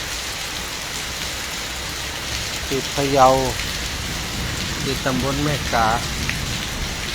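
Steady rain falling outdoors in Phayao, Thailand, a constant hissing patter that fills the background while someone speaks briefly over it.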